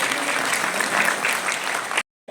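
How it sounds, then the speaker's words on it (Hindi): Loud, dense applause from an audience seated at a university convocation ceremony, sustained clapping for about two seconds before cutting off abruptly. "आप अपने लिए एक बार जोरदार तालियां बजाइए"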